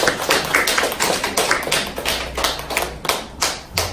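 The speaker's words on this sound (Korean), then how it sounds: "박수 부탁드리겠습니다" Audience applause greets a guest speaker at the start of a public health lecture, dense, steady clapping from a room of people that holds for several seconds with no talking over it.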